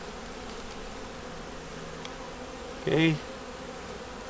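Honey bees hum at an open hive in late autumn as a steady, low, close buzz throughout, with one brief louder buzz of a bee passing near.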